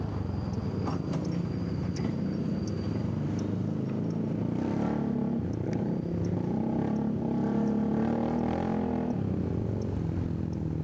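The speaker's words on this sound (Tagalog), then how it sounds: "Buong buo yung tunog ng pipe" A Zontes 400G motorcycle fitted with a modified exhaust pipe rumbles and revs at close range, producing a deep, full throaty drone that rises and falls steadily for about eleven seconds with no talk.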